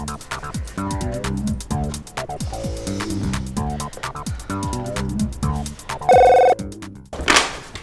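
A telephone bell rings in repeated bursts over music, followed by a short electronic tone and a burst of noise at the end.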